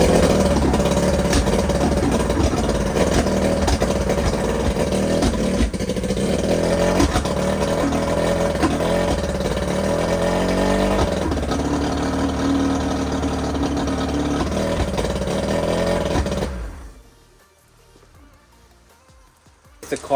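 An outboard engine on a 19-foot Cajun center-console boat runs loudly and roughly for about sixteen seconds with uneven revving and someone talking over it, then cuts out to near silence.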